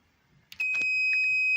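A home automation temperature sensor alarm triggers when the reading reaches 28 degrees. A couple of soft clicks come first, then a loud, steady high-pitched electronic beep tone holds to the end.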